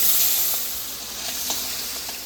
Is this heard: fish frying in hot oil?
yes